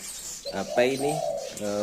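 Zebra finches give a few short, nasal calls up close, brief bursts in a quick cluster with a small pause before a last call.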